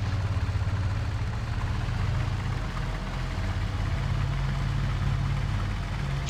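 Engines of a Junkers Ju 52 aircraft in the IL-2 Sturmovik video game, a steady low droning hum with strong low tones, constant and loud without interruption.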